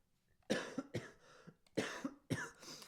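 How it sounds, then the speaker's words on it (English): A man coughs hard several times in quick bursts, close and loud, with brief pauses between the harsh coughs and no talking over them. "if you don't know why I'm coughing right now"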